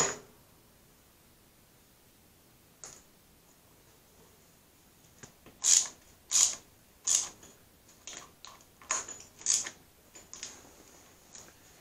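Metal parts clink and tick as a core aerator wheel is bolted back together, with a run of sharp, closely spaced clicks and clanks in the second half after a mostly quiet start.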